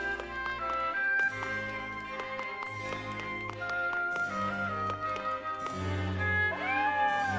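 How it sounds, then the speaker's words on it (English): In the video game Triangle Strategy, a cat's meows rise over steady orchestral game music, with a drawn-out call near the end. "Cat."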